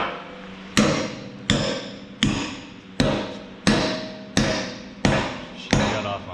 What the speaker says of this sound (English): Let's hammer this one in.